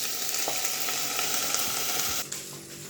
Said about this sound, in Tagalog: So, magigisa tayo sa sarili niyang mantika.